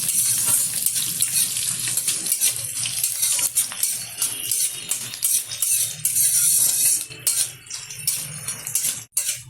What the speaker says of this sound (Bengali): দিয়ে দিচ্ছি কুচিয়ে রাখা কিছুটা রসুন। রসুনটা একটু ভেজে নিচ্ছি।